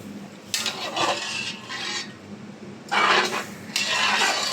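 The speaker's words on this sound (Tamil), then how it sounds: "அதை நல்லா மிக்ஸ் பண்ணி விட்டுடலாம்." Masala and water being stirred in a cooking pot for purikilangu, a spoon scraping and clinking against the metal in a few bursts of rhythmic stirring, close and moderately loud.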